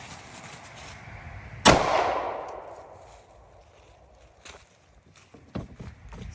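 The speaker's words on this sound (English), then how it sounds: "I'm just gonna keep shooting this, just to show how many shots you can take." A single loud gunshot hits a bulletproof armored suit, a sharp close crack with a ringing decaying tail, followed by faint shuffling and small knocks.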